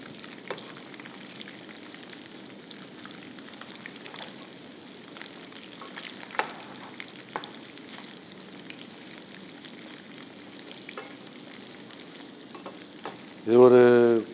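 Chicken pieces for a sweet, creamy restaurant-style Japan chicken fry quietly in a pan and are turned, a soft steady sizzle with scattered small pops and stirring scrapes, ending in a brief louder clatter.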